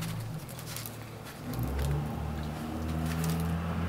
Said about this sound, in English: I swear people have the loudest cars in the history of cars, bro.